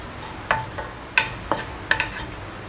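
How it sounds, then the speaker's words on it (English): Curry vegetable ingredients frying over medium-low heat with a soft steady sizzle, broken by several sharp scrapes and clinks of a utensil stirring against the pan. "I'm frying this over medium-low heat"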